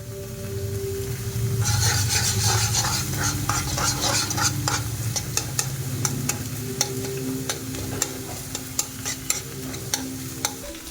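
Potatoes fry with sauce in a pan, a constant sizzle under sharp, irregular scrapes and taps of a spatula stirring, close and with no speech.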